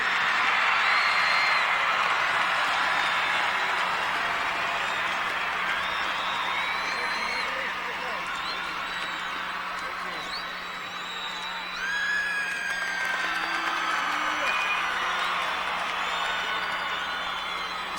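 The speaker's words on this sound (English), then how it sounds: "Football fans, let's give a warm round of applause to these two fine teams for their outstanding seasons." At a 2001 state high school football championship ceremony, a large crowd applauds the Kahuku and St. Louis teams with sustained clapping and cheering that stays dense and even, with scattered whistles and shouts on top.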